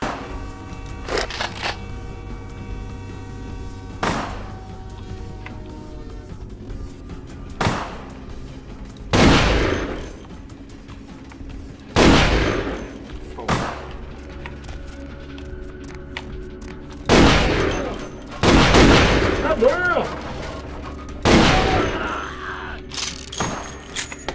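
Shotgun blasts in the video game Vampire: The Masquerade, several loud booming shots spaced irregularly across the stretch with quieter footsteps and game noise between them, no talking.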